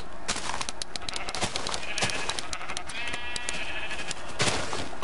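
Sheep bleating in a Minecraft-style block video game, several repeated synthetic bleats sounding close and loud, with faint game sounds in the background.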